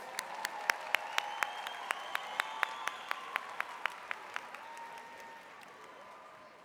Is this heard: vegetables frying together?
no